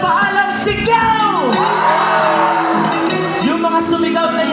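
Crowd at an outdoor amphitheater concert in BGC letting out a loud collective shout on cue, overlapping whoops and yells sustained for several seconds, near and full.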